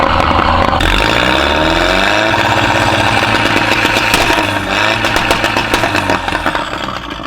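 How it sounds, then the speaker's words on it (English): A car with a 1.8T engine on a test drive, its loud engine droning and rising in pitch through the gears, then easing off with a rougher note near the end. "I'm gonna go test drive it."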